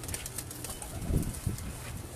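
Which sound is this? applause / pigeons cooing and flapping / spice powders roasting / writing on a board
pigeons cooing and flapping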